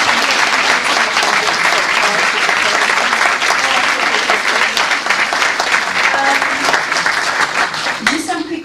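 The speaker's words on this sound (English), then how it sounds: "If we can please get a round of applause for..." Sustained audience applause at a talk on race, space and design in the just city, a dense steady round of clapping filling the room throughout, tapering near the end.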